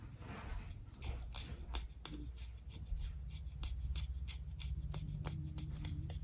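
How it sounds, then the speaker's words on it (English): A cane reed is scraped to smooth and polish its heart, giving quick, close, dry rasping strokes in an irregular rhythm over a low background hum. "I just have smoothed and polished the heart on this side"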